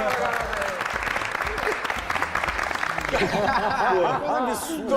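Small group claps in a room, a brisk patter of hands under overlapping chatter and laughter, with voices becoming more prominent toward the end.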